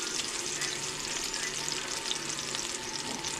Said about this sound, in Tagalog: Gisa po tayo.